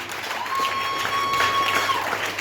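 Church congregation breaking into applause and acclaim for Jesus, a dense wash of clapping with a sustained tone running through it, steady and moderately loud throughout.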